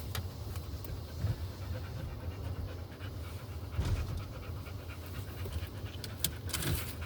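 A dog pants steadily and rapidly outdoors on a walk, soft rhythmic breathy huffs close by, with faint rustling and light ambient noise around it.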